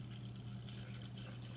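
Orange juice pours into a shaker bottle as a soft, quiet liquid trickle over a low steady hum.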